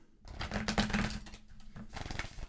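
A deck of tarot cards being shuffled by hand, a rapid flutter of riffling and soft slaps repeated in quick succession, close and fairly quiet.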